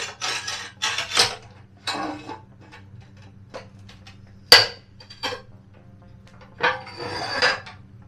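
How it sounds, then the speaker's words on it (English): Tiles being cut for tiling during a tiny house renovation in central Portugal: scattered sharp clicks, taps and scraping bursts of varying loudness with quiet pauses between, close by and without talk. "So I'm going to cut as many of the tiles as I can for now."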